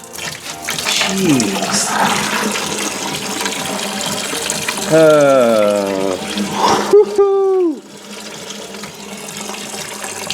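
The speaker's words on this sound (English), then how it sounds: "I was able to collect all the antifreeze into one clean bucket without making any mess." Antifreeze drains from a rock bouncer off-road vehicle into a bucket with a continuous splashing pour, alongside a brief spoken exclamation and some vocal sounds.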